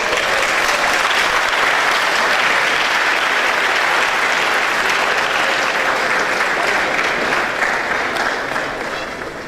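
Applause from a tech-conference audience after a talk, steady and full for most of the clip, fading slightly near the end.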